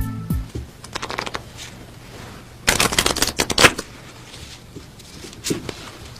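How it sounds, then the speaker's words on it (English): Cards from a Svengali deck are riffle shuffled up close, with bursts of rapid flapping and riffling clicks, a sharp cascade in the middle and a few lighter taps around it. "The riffle shuffle with a Svengali deck."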